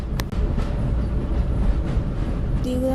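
A train in a video game rolling along with a steady rumbling clatter, a faint high whine appearing as it slows toward a stop near the end.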